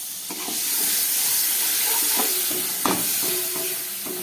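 Ground coriander and cumin with a splash of water sizzle and steam in a hot pan for a fish curry, a steady bright hiss with a few stirring scrapes and clinks, no voices.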